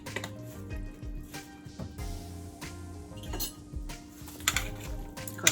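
Brown stew chicken with pimento seed and ketchup being mixed in a pot, giving light clinks and scrapes of a utensil against the pot in an uneven rhythm, close and fairly quiet.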